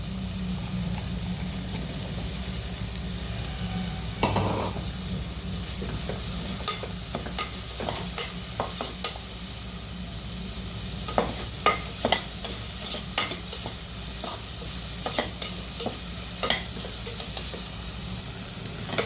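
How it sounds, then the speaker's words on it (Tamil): Chopped shallots frying in a pan, a steady loud sizzle with scattered clinks and scrapes of stirring throughout, no voices. "சாப் பண்ணி வச்ச சின்ன வெங்காயம் போட்டுக்கலாம்"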